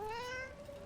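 A single short meow from a cat in the video game Dragon Age The Veilguard, a clear rising-then-falling cry, fairly quiet and isolated.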